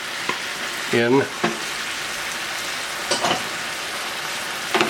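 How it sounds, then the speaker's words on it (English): Canned crushed tomatoes go into a hot pan of chicken cacciatore with peppers and vegetables, setting off a steady close sizzle and frying hiss with a few brief stirring scrapes and a short spoken word over it. "Then we're going to put our can of crushed tomatoes"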